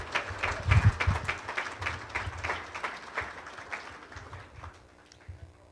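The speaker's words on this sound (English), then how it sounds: "Let's give all of our speakers another round of applause" An audience at a grand opening gives a round of applause for the speakers, loud dense clapping at first that thins out and fades over several seconds.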